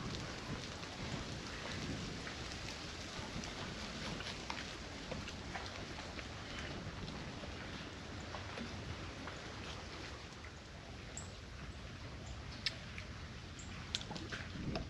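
Rain falling steadily around a truck at a campsite, a constant hiss of drops on surfaces with a few louder isolated drips, fairly faint and even throughout with no talking.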